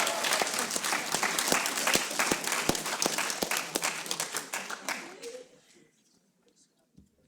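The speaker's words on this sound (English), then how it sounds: "Give them a round of applause." Applause from the audience at a hackathon closing ceremony, a lively spread of claps with distinct close hand claps, tapering off after about five seconds into near quiet with a faint stray sound at the end.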